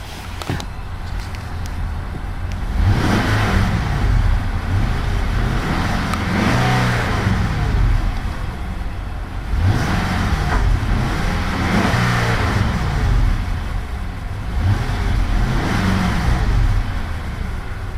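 2011 Infiniti QX56 AWD with a 5.6-liter V8, revved several times in a row, each smooth rise and fall of engine note heard up close and steady, with no talking.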